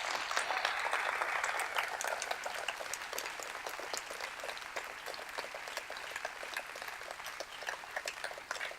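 Audience applause at a church talk, steady, fairly faint clapping from a crowd at a distance, sustained without talk.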